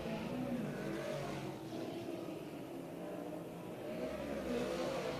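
Dirt track race cars roar together through a hot lap session, a steady, loud engine drone that swells and fades slightly as the field passes, with no voices.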